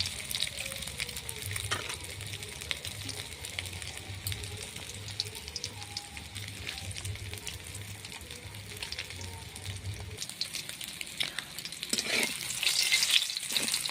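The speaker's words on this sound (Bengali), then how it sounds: "তারপর আমি লাল করে ডিমটা ভেজে নেবো" Constant close sizzling and popping of frying, with a low hum underneath that drops out partway, then the hiss grows louder at the end.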